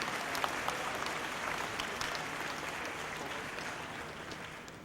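Steady, fairly distant applause fills a school fine arts assembly hall, a large audience clapping continuously and evenly before easing slightly at the end.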